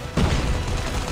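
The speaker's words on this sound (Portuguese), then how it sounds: "Granada." Grenade blast in the mobile shooter Call of Duty Mobile, a single loud boom that rolls into a sustained rumbling wash for about a second.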